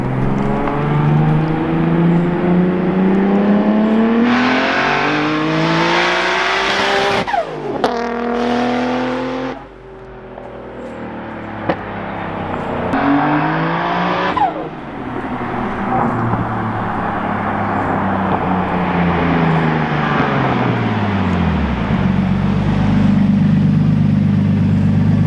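Nissan R32 GT-R on drag slicks passing by, its loud exhaust rising through the gears with sharp shift breaks and a brief cutout, then fading into a steady roar as it pulls away.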